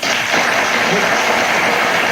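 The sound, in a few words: studio audience applause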